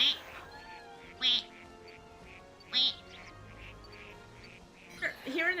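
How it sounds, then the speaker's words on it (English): Duck-like cries of Ducklett and Swanna in a Pokémon video game, a few short high quacking calls spaced a second or so apart over steady game music. "Hearing their duck noises is just funny to me."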